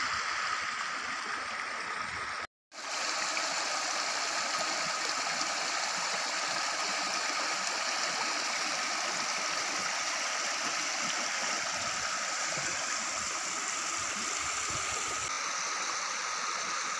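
Rainwater running steadily through streams and channels across rain-soaked farm fields in Kalahandi, a constant broadband rushing that continues throughout after a brief dropout near the start.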